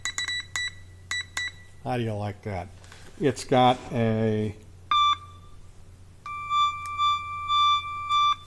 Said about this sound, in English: this is my Morse code practice oscillator